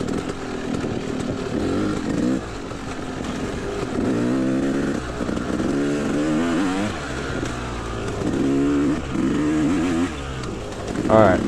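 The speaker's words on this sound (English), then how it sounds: "right now I'm just riding a smooth race, trying to get through this rocky, dusty trail" Enduro dirt bike working through a rocky, dusty hard enduro trail, engine revving up and down in close, uneven bursts with shifting pitch, loud and continuous from start to finish.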